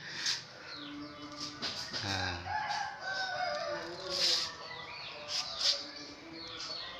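Roosters crow repeatedly at close to moderate distance, several long calls overlapping with clucks and chirps from other fowl, along with brief background chatter.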